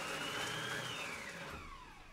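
Food processor mincing ingredients for soon kueh, a brief steady whir with a whining pitch that slides downward as the blades spin down.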